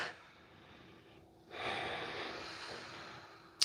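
A long steady breath during a Pilates hold, a soft airy exhale that swells after a quiet moment and keeps going, close to the mic with no talking.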